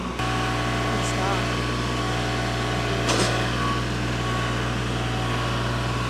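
A tractor engine runs at a steady, loud drone while concrete is spread for a sidewalk pour, holding an even, unbroken hum from start to finish with a brief clatter near the middle.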